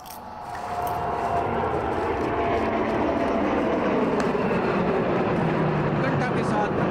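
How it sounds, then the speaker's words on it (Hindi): A P-8I maritime patrol aircraft flies past with two MiG-29 jets in formation during a Republic Day parade flypast, a loud, steady, rumbling roar that swells in and then holds, with no speech audible. "आगमन होता हुआ P-81 विमान को दो अन्य MiG-29 विमानों के साथ हम देख सकते हैं पोसाइडन फॉर्मेशन में।"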